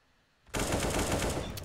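Sudden burst of automatic rifle fire in a Counter-Strike match on the de_nuke map, starting abruptly after a near-silent moment and continuing loud and rapid to the end.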